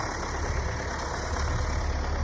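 Tractor engine working hard while pulling a combined cultivator across a field in a higher gear, a steady heavy low rumble that stays constant and close.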